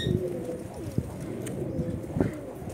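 Pigeons coo softly nearby, low throaty calls repeating amid faint rustling and background hum.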